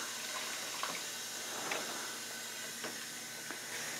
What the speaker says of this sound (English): So just give it a change of water.